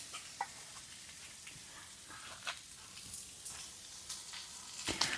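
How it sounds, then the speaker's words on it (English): Pre-cooked pork chops sizzle and crackle steadily in a pan outdoors in the Quartzsite desert, a soft continuous frying hiss with occasional sharper pops, close and moderately quiet. "Just had to cook the pork chops."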